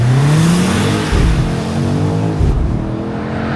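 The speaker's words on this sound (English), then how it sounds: "Launch control." A 2025 BMW XM launches hard under launch control, a loud close engine roar that rises steadily in pitch, with brief dips at the gear changes, and no talking over it.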